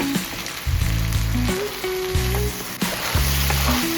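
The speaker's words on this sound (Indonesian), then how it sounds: "Terus diudek-udek sampai bumbunya tercampur merata." Chicken gizzards and liver in sambal sizzle loudly in a pan while being stirred, with a continuous frying hiss and repeated scraping strokes of the spatula, no talking.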